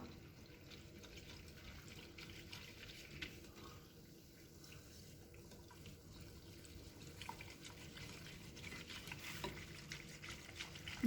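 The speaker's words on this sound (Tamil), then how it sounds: "கோகோனட் மில்க், இதை நல்லா மிக்ஸ் பண்ணிக்கோங்க எல்லாத்தையும்" Corn custard batter with coconut milk is stirred in a bowl, making a soft, continuous wet swishing and sloshing close by, fairly quiet, with no talking.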